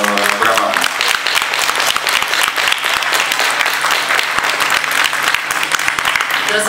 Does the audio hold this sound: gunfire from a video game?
no